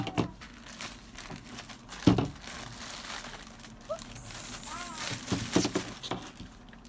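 Crinkly wrapping on a package of art materials being opened for a school snowman project, with bursts of crumpling and tearing, one sharp crunch near the start, and soft voices in the background.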